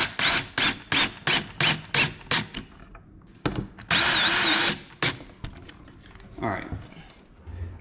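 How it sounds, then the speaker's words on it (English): A power drill drives a screw for a cabinet door handle in short, repeated bursts, then one longer whirring run, followed by fainter handling and tool noises close by. "Finish it up with your drill."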